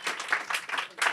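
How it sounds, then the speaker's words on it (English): Short burst of audience applause at a talk event, a few seconds of scattered clapping from a small crowd with no voices over it. "Can I hear some applause for people who will do that?"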